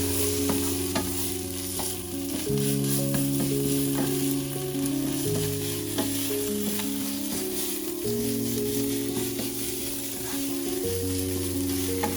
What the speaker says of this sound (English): we're gonna stir it in, spread it in around there so that it really just starts to stick to our onion and our garlic